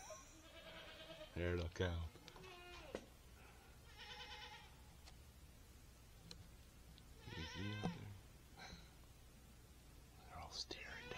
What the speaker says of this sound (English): the goats think that it's time for me to feed them